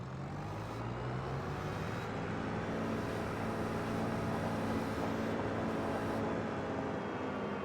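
A Kubota tractor drives in the Farming Simulator 25 game. Its engine makes a steady, continuous drone with a low rumble and a slight shift in tone early on, and no voices are heard.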